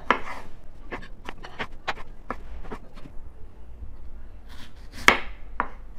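Knife cutting cherry tomatoes in half on a board, a series of sharp evenly spaced chops followed by a pause and a couple more cuts, close and clear with no talking.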